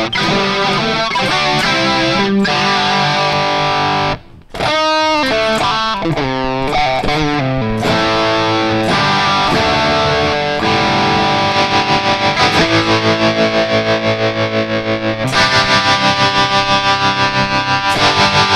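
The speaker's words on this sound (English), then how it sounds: "So we can move that to distortion" Distorted electric tone from an Enya Nova Go Sonic carbon fiber composite guitar with built-in speaker, loud chords and sustained riffs played through a distortion effect with a brief pause, then strummed rhythm continuing to the end.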